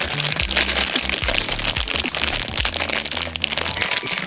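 A small plastic bag of collectible sea-animal figures is pulled out and handled, giving close crinkling and rustling with quick rubbing and clicking scrapes over a faint background.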